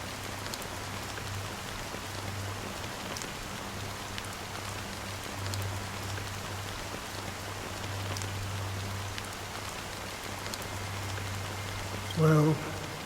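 Rain falls in Honkai: Star Rail as a faint, even hiss of drops that holds steady throughout, with one short louder sound near the end.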